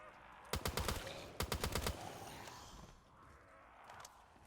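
Rapid bursts of M-14 rifle fire in Black Ops 3 Zombies, two quick volleys of close, sharp shots followed by a few faint distant pops.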